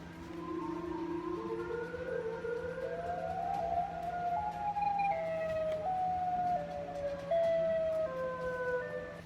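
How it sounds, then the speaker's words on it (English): Several sirens wail together in slow, overlapping rising and falling tones, steady and continuous over a low background hum, sounding distant and echoing across open air. "this sounds like tornado sirens from Chicago"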